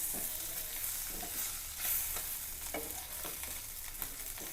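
Steady sizzling and crackling of pallathi (small freshwater fish) frying in a pan, with a few scrapes of stirring, close by and alone without voices.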